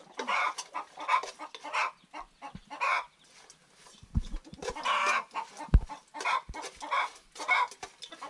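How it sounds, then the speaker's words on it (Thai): Chickens cluck in short, scattered bursts at moderate distance, with a few dull knocks in between. "มีแต่เสียงไก่เสียงกา"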